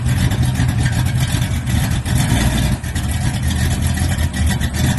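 A car with a freshly installed engine setup runs up close, with a loud, throaty rumble and repeated swells of revving over a steady idle.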